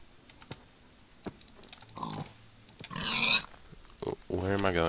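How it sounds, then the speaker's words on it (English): Cartoonish pig oinks and grunts from a video game, several short bursts scattered between faint keyboard typing clicks, with a louder squealing call near the end, alongside a player talking. "Where you is, pig?"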